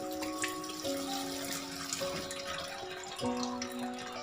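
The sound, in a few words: cold water poured over boiled macaroni in a strainer basket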